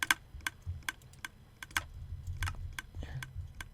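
Keystrokes on a computer keyboard come in irregular bursts of sharp clicks, close and fairly quiet, over a low background hum with no talking.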